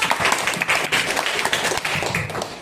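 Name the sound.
classroom applause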